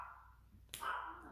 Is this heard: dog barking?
yes